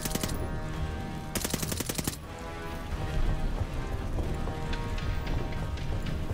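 Rapid machine-gun bursts crackle loudly in the video game Call of Duty Vanguard, one long sharp burst standing out before dense, rattling battle noise and rumble carry on beneath.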